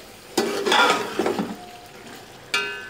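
Tomato masala for Punjabi chicken pulao frying in a pot over a high flame, with brief sizzling bursts and stirring clatter in short separated spurts, close and moderately loud.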